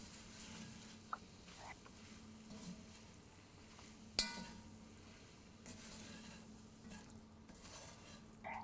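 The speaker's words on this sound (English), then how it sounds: "Mix it nicely with the masala mixture." Mushrooms are stirred into a tomato masala in a hot pan, a quiet close sizzle with soft scraping and patter and one sharp utensil knock midway.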